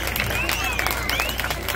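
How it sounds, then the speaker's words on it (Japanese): A crowd at an outdoor Eisa festival in Okinawa claps in a short burst of applause, mixed with voices and bright whistle-like cries over a low steady hum. "今一度大きな拍手"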